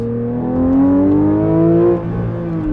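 A 2022 Porsche 911 GT3 with a six-speed manual and 9,000 RPM redline revs hard and close, its engine note climbing steadily in pitch, then dropping briefly before holding steady.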